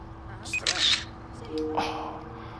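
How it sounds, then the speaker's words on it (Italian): In-game camera shutter in Watch Dogs 2 as the character snaps a selfie, two quick clicks about a second apart over faint background game sound, with someone talking quietly. "adesso mi scatto un'altra foto"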